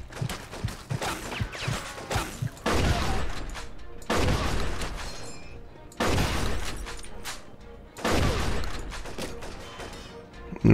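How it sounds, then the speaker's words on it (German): Rapid, loud bursts of gunfire in the Mafia 2 video game, firing in dense volleys separated by brief gaps, with a voice occasionally audible. "Okay, 4 direkte Schüsse hat er jetzt schon vertragen."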